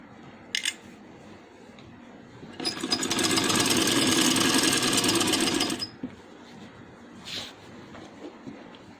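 A sewing machine stitches a long handmade night frock in one steady, loud whirring run of about three seconds, close up, with a few faint clicks and handling sounds before and after.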